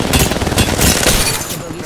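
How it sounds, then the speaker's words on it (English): Dense, continuous gunfire in the battle-royale shooter Apex Legends, a rapid burst of shots close up through the whole stretch, mixed with in-game noise and talk. "They're shooting us."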